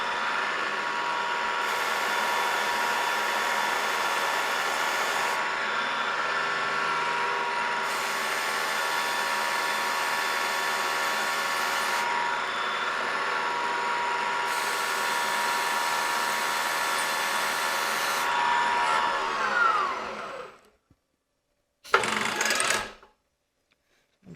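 A CNC machine drilling metal gives a steady, loud whine with a high tonal hum, running continuously for about twenty seconds, then winds down and cuts off, followed by a brief burst.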